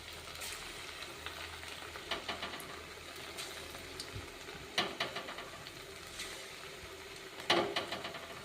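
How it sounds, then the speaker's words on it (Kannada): Oil frying gently on a low flame, a soft steady sizzle with scattered crackles and pops, quiet and continuous with a low background hum. "ಲೋ ಫ್ಲೇಮ್ನಾಗ ಇಟ್ಕೊಂಡು ಕರ್ಕೋರಿ"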